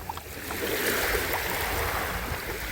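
Lake Superior waves at Bayfield, Wisconsin, a continuous close wash of water with a windy, broadband roar and no talking.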